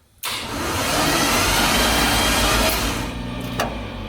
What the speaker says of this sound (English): now I will push this and you'll hear starter